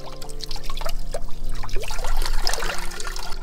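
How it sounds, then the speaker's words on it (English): Spring water trickling and splashing at a rural spring in Malo Crnice, Serbia, a close, bubbling, uneven dribble with a low steady hum beneath it. "And here is the spring."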